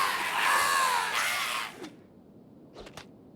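River raptors in the Kenshi video game let out loud, shrill screams that overlap for nearly two seconds, then cut off, followed by a few faint short cries.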